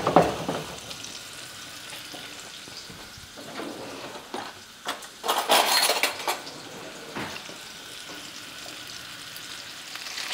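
Chicken pieces frying in a pan over moderate heat, a soft steady sizzle with scraping and clinking as the meat is stirred, louder bursts of spatter and utensil noise midway.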